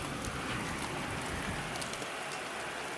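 Heavy storm rain with wind pours down in a steady, dense roar, close and loud with no letup.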